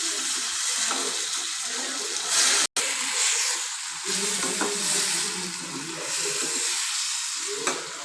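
Tomatoes fry with onions in a pan, giving a close, steady sizzle with bursts of stirring and scraping and one brief cut in the sound.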